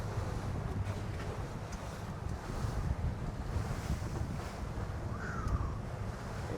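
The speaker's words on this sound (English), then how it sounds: "It is windy." Strong wind buffeting over open sea during commercial stone crabbing, a heavy roaring rumble with gusts and sloshing waves, constant and loud throughout.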